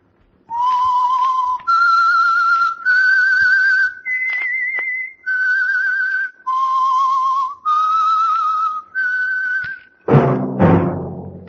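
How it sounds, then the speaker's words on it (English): A clear whistled melody of about nine sustained notes, the theme of the 1940s radio drama The Whistler, each held briefly with short gaps, followed by a struck, ringing musical chord at the end. "That whistle is your signal for the Signal Oil Program"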